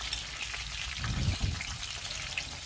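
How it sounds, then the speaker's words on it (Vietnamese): Mushrooms fry in a pan of hot oil for vegetarian cooking, a close, steady crackling sizzle with a slightly louder burst of spattering midway, no voices. "giờ mình chiên sơ lại nó là được rồi đó quý vị"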